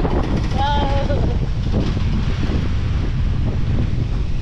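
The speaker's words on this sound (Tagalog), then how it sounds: "grabe lakas ang alon no, taos ng hangin" Strong wind roars across the microphone at sea while big waves surge underneath, a steady loud rush throughout with a brief voice near the start.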